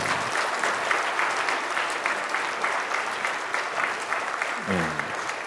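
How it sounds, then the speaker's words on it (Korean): A church congregation claps to welcome a guest speaker, with steady sustained applause filling the hall and a voice briefly speaking over it near the end. "다시 한번 우리 박수로 환영하겠습니다."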